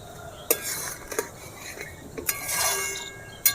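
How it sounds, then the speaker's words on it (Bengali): A spatula stirs tomato sauce boiling down in a pot, giving sharp metallic scrapes and clinks against the pot at irregular moments over a steady bubbling, fairly close and alone without talk. "এভাবে খুন্তিয়ে করে কিন্তু সব সময় নাড়াতে হবে নাহলে নিচটা কিন্তু বসে যাবে"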